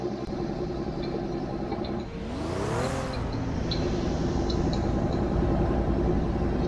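Engine drone of a Pagani Huayra driven in the Roblox game Driving Empire on a highway race, a steady hum with a brief rising whoosh as if passing or accelerating midway, continuous and moderately loud.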